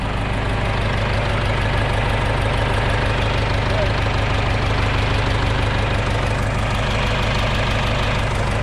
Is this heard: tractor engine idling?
yes